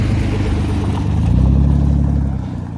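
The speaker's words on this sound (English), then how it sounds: "I've got a truck coming." A truck passes on a road in southern Wyoming, its loud engine rumble building and swelling near the middle before easing off, with no talk over it.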